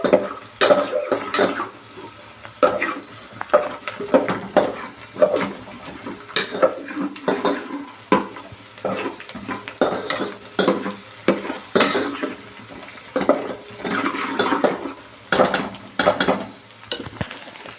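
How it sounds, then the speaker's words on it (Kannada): Pasta being stirred in a cooking pan, a utensil scraping and clattering against the metal in quick irregular strokes, with soft sizzling underneath, up close and fairly loud throughout. "ಸೊ ಇವಾಗ ನೋಡ್ತಾ ಇರಿ, ಈ ಥರ ಸ್ಟೀರ್ ಮಾಡಬೇಕು"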